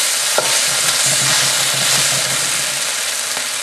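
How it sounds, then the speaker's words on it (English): Pork stir-frying in a hot pan with XO sauce, a loud, steady sizzle with scraping stir strokes and clinks throughout. "we're going to stir fry the pork"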